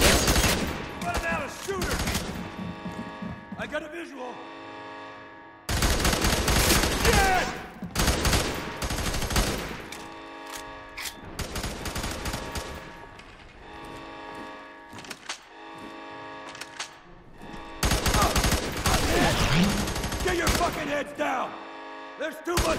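Heavy automatic gunfire and rapid bursts from the first-person shooter game F.E.A.R. 3, loud and nearly continuous in dense waves with short lulls, while combat voices shout in the background.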